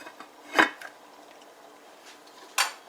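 A metal lid clanks onto a pot of cooking dal in a home kitchen, one sharp metallic clatter, a lighter tap, then a second clang a couple of seconds later, heard close and alone.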